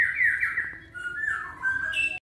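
A caged oriental magpie-robin sings loud, clear whistled phrases, sliding up and down in pitch, close by and alone, ending abruptly.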